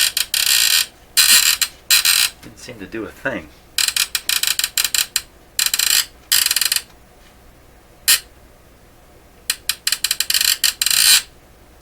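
Clicking and ratcheting from the alarm-setting mechanism of a Panasonic RC-6253 FM-AM clock radio, in irregular bursts of sharp, close mechanical clatter with short pauses, and one brief spoken remark in the middle.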